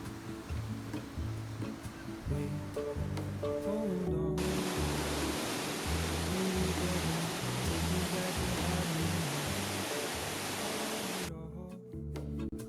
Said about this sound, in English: Thanks to all the rain the island gets, we also saw some beautiful waterfalls